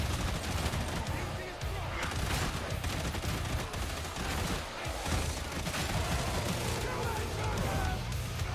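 Rapid gunfire from a Hive Scum character in a co-op shooter video game, dense and continuous bursts layered with game effects and occasional voices.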